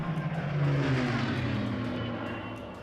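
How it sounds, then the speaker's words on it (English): The Rolls-Royce all-electric Spirit of Innovation aircraft passes in flight, giving a soft, steady whirring drone with a faint tonal hum that swells slightly and then fades at moderate distance. "RollsRoyce has flown its all-electric Spirit of Innovation aircraft a few days ago"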